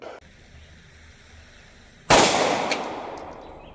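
A single sharp 9mm gunshot from a short-barrel pistol firing a Nosler 124 grain round into gel, a loud sudden crack after a quiet stretch, followed by a long decaying ring and echo.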